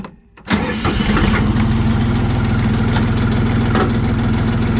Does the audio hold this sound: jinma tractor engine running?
yes